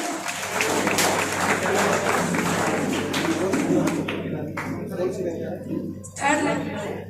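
An audience applauds a student's rank at a Career Point Kota motivational seminar held at Times Public School, Hanumangarh. Dense, steady clapping fills the room for several seconds, then thins into scattered claps with a brief swell near the end, under ongoing talk.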